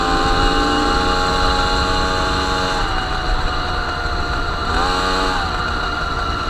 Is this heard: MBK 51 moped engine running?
yes